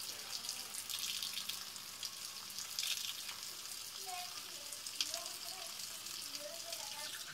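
Water running and splashing steadily while tomato seeds are rinsed and drained, a continuous wet rushing with faint trickles and a few soft clinks.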